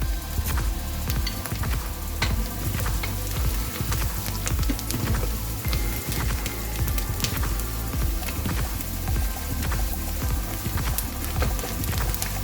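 Onions frying with red chillies, turmeric and salt on a medium flame, a dense continuous crackling sizzle with rapid popping, steady and close, no talk.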